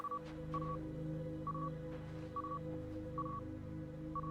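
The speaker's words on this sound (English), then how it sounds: "you got a little radar ping to find out where the stuff is then" A resource-locating radar ping in the Stars Reach video game, a short electronic tone repeating about every second over a low steady background hum, moderately faint.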